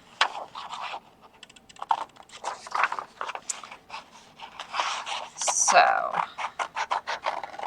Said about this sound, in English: So that's what I'm going to do first, is cut out on my solid lines.